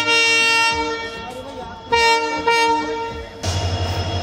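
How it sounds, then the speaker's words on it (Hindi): A passenger train from Gangapur arrives at platform 1 of Lalsot railway station in India, sounding several loud, tonal horn blasts of varying length before a rising, heavy rumble of the approaching train. "Lalsot railway station platform number 1 पर आ गई है, गंगापुर से आई है ट्रेन"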